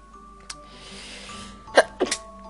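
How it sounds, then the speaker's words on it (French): A man's sneeze during a Dofus dungeon playthrough, a sharp burst followed by a second shorter one, close to the microphone over faint game background tones. "Ah, excusez-moi pour cet éternuement."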